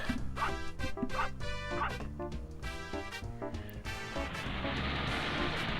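Repeated dog barks and yips in the Nintendo 64 game Space Station Silicon Valley ring out over a busy, steady game soundtrack with music, the barking clustered early and then fading into a wash of noise.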